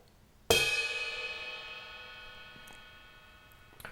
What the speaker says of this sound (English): pad 16 is the bell of the ride cymbal